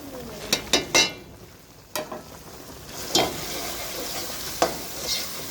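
Sausage frying in a pan, giving a soft sizzle with sharp crackles and spatters at irregular intervals, fairly faint and heard without talk.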